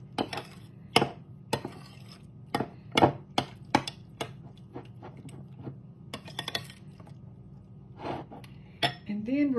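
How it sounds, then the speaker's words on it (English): A spoon scrapes and clinks against a dish while canned ingredients are mixed together, giving irregular close knocks and taps with a brief faint voice near the end. "start mixing this together"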